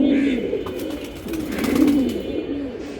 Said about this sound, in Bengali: খুবই চমৎকার একটা জোড়া কবুতর